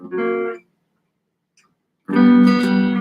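Two short bursts of strummed guitar chords, a brief chord then a pause before a longer ringing one, with no voices.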